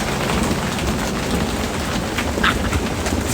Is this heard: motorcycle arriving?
no